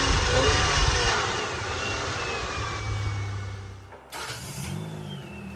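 Steady engine drone from a third-generation Toyota 4Runner being driven outside, continuous and fairly loud, dipping briefly before picking back up.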